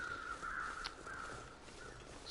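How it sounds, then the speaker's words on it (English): Crows cawing overhead in The Long Dark survival game, a few harsh calls cutting through a steady windy ambience, fairly distant and moderately quiet. "Crows flying overhead."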